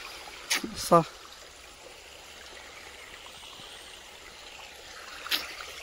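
A stream of water flows steadily near a camping spot, a soft, constant rushing wash throughout, with a couple of brief sharper sounds near the start and another near the end.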